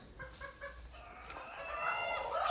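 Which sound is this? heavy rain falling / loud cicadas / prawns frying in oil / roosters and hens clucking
roosters and hens clucking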